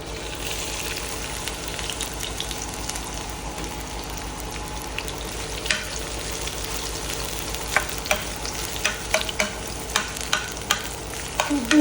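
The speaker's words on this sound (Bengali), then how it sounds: "আমি অর্ধেকটা লাল পেঁয়াজ এখন ভাজি লাইমো" Half a red onion frying in a pan with garlic for an eggplant bharta, giving a steady close sizzle with occasional sharper pops and spatters, and no one talking.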